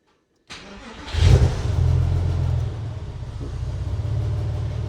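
A Porsche 996 engine cranks and fires after a moment of silence, flares briefly, then settles into a steady, slightly low and uneven idle rumble, close and loud.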